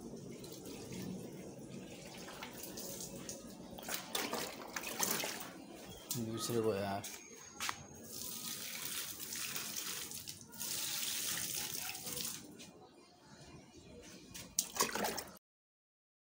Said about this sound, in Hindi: किसी बाउल की मदद से ना पानी दे दें पौधों को।